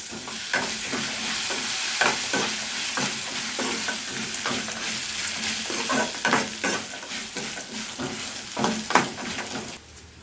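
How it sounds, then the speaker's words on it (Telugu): Tempering spices crackle and sizzle in hot oil, punctuated by repeated scraping strokes of a spoon stirring in the pan. "పోపు దినుసులు అయితే బాగా ఏగిపోయినాయి"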